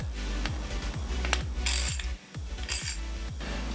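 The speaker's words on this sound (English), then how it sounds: "The handle's turning, but the actual driver is not" Ratcheting mechanism clicking repeatedly as a handle turns while the driver slips during small-engine repair, with a steady rhythm of mechanical clicks and ratchet pulses, up close and fairly loud.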